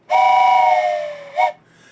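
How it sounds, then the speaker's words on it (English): A loud train whistle sound effect in an OpenTTD railway game blows one long steady chord, sliding slightly down at its end, followed by a short second toot, with no other sound around it. "We're going to start with a fantastic train whistle for joke."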